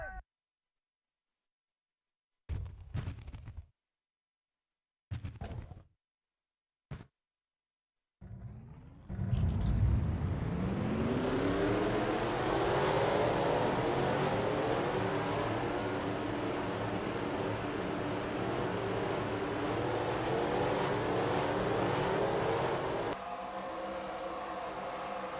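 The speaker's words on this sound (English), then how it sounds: "Drivers, start your engines!" Race car engines in a stock car racing video game at Kansas: a few short bursts and pauses, then a loud, dense roar as the field of engines fires and holds steady, easing slightly near the end.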